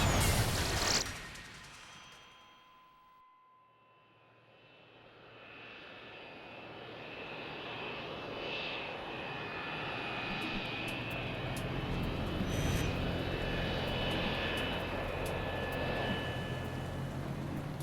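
Airliner engines of a Crossair plane waiting to take off at Zurich International Airport, a broad steady roar that swells and holds after a brief lull, loud and continuous with no talking.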